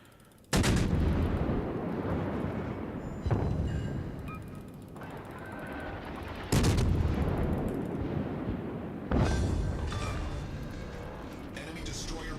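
Heavy naval gunfire and explosions in World of Warships, with a destroyer blown apart, sounding as loud, booming blasts at roughly 0.5, 3.3, 6.5 and 9 seconds. Each hit is followed by a long, rumbling decay that keeps the whole stretch dense and roaring.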